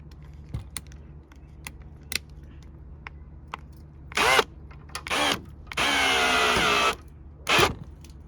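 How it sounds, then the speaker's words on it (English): A power drill whirs in several short bursts, driving a screw through a deck sunblind mounting plate, ending in one longer sustained run, with small clicks and handling noises between. "the screw is going to go through the plate, through there, and I'm going to drill that in"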